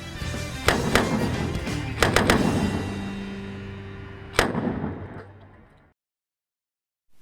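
Cowboy-style fast draw revolvers firing at a championship match, several sharp loud blank shots in quick succession with a final crack, echoing outdoors before fading to silence.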